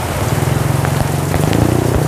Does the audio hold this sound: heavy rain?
yes